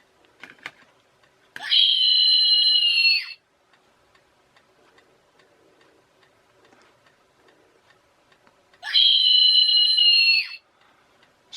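A Halloween scary doll lets out two shrill electronic screams, each lasting almost two seconds, with a stretch of faint clicks and near-silence between them.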